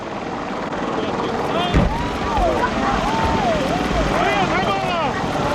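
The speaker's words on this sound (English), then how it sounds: "Ladies and gentlemen, the British Army Apache attack helicopter." British Army Apache attack helicopter flying at an airshow, a steady loud rotor and turbine roar with a PA announcer's voice weaving over it throughout.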